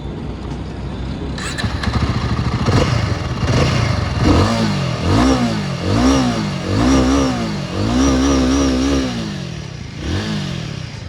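A Royal Enfield Guerrilla 450 motorcycle that has been in an accident is started and revved up and down repeatedly, a loud close engine rising and falling in rhythmic waves, with some clatter and voices talking in the background.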